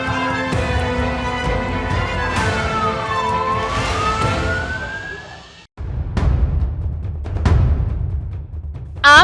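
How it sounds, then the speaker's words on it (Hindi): An ambulance siren wails in heavy road traffic as the vehicle tries to reach a school. The rising and falling tone sits over engine and traffic noise, then cuts off abruptly, leaving scattered sharp traffic sounds. "एक एम्बुलेंस स्कूल तक पहुंचने की कोशिश कर रही है"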